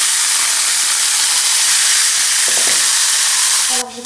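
Peeled, chopped tomatoes and peppers cook in a hot pan with a loud, steady hiss and sizzle of steam. A few faint scrapes sound midway before the sizzle cuts off abruptly at the end.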